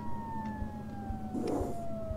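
Ambulance siren in a hospital video game, a steady descending wail running throughout at moderate level, with a brief crash-like burst of noise near the middle and low thumps underneath.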